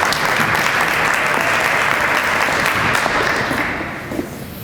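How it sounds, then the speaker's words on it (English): Loud, sustained applause from an audience at a city's State of the City address, evenly thick before easing slightly near the end. "Please give Susan a round of applause."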